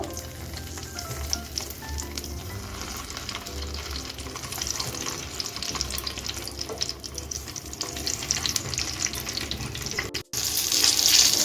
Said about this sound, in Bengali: আমি একটা গ্যাসে নন স্টিক প্যানে সর্ষের তেল দিয়ে গরম করে নিয়েছি বেগুনটা ভাজার জন্য